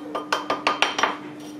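A spoon knocks against a bowl while salou ingredients with powdered sugar are mixed, six quick clinking taps in a brisk rhythm, close and clear over a faint steady hum.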